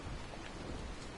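Rain and thunder in the video game Dying Light make a soft, continuous patter with a low rolling rumble underneath, steady and fairly faint across a short moment.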